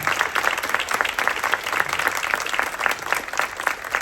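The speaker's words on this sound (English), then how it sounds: "Can I get another round of applause for these amazing speakers?" Sustained applause from a live audience for speakers at a psychedelics careers event, dense steady clapping filling the room throughout with no pauses.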